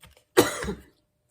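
A single close, harsh cough that trails off quickly, then quiet.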